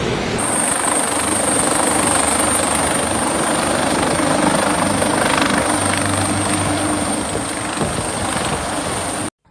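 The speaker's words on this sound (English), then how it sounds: "Helicopter operations were carried out to save those who asked for help" A rescue helicopter's rotor thrums steadily and loudly overhead during flood evacuations in Ravenna, Italy, a constant chopping drone with a high whine, cutting off abruptly at the end.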